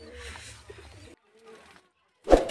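A giribaz high-flying pigeon from Jamshedpur gives a short, close coo that stands out near the end, after a stretch of low background sound and rustling.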